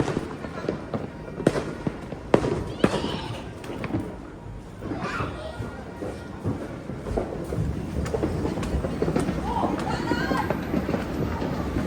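A steady roar of New Year fireworks with sharp cracks and pops, some sudden and loud, blends with a crowd's noisy chatter in the rain.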